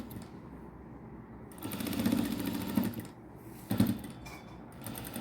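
A sewing machine runs in short bursts, stitching lace onto a dupatta, a quiet close whirring and clatter that starts, pauses and restarts, with no talk.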